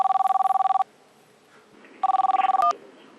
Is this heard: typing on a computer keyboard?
no